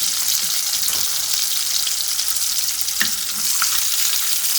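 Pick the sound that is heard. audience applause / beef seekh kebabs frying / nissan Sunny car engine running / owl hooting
beef seekh kebabs frying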